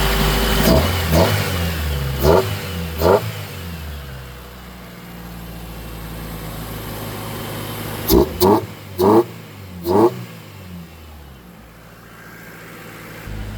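A car with a check engine light and a history of burnt-out ECUs idles, then revs hard in short bursts, a few early and a quick cluster of blips later, loud and close.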